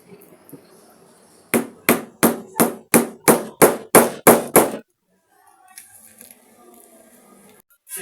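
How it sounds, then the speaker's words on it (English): Eleven sharp hammer strikes knocking a rivet on a bag in a quick, even rhythm, loud and close, followed by quiet background noise. "And you make use of your hammer to knock it."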